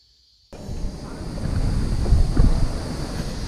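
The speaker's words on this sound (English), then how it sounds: "It's a river." River water flowing, a rushing, wind-buffeted roar that starts abruptly after a brief silence and builds in strength, steady and close.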